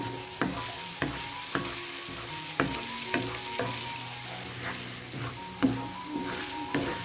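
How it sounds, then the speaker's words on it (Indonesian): Spice paste sautés in a wok, a steady close sizzle of frying oil broken by repeated scraping and clacking strokes of a spatula stirring at an uneven rhythm, with no voices. "Kemudian ini kita tumis hingga tanak atau benar-benar matang."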